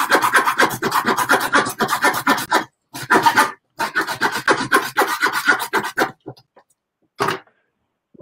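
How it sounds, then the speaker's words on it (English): Rapid back-and-forth rasping strokes of a bone saw cutting through venison bone, close and loud, in bursts with brief pauses, ending in scattered final strokes. "And just start sawing."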